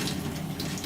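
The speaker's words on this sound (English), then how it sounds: "Let me turn the water off because you guys can't probably hear me too well" Kitchen tap running steadily while chicken drumettes are prepared for stew, a close, continuous broadband rush of water with no break and no talk.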